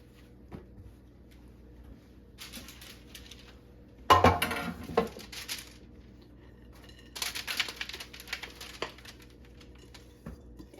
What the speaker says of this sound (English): So let's bring our baking sheet over here.